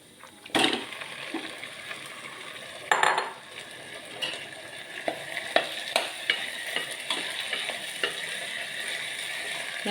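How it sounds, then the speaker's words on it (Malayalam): Boiled plantain pieces stirred and mixed in a hot frying pan, a continuous sizzle with repeated spoon scrapes and knocks against the metal, close by and unaccompanied by speech. "നന്നായിട്ട് മിക്സ് ചെയ്തിട്ട് ഒരു സിമ്മിൽ ഒരു രണ്ട് മിനിറ്റ് മൂടി വെച്ചാൽ നന്നായിരിക്കും"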